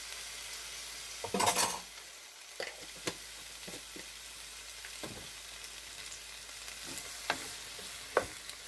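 Gyro meat with a little garlic cooks in a pan with a soft, steady sizzle, broken by sharp utensil scrapes and clinks, one louder burst of stirring near the start.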